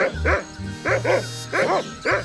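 Dog in the Monkey Island 2: LeChuck's Revenge video game barking in four short, evenly spaced yapping barks, close and clear with a low tone beneath.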